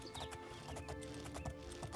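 Horse hooves clip-clopping in the video game Oblivion, a steady rhythmic trot of close hoofbeats over a dense, busy game soundscape.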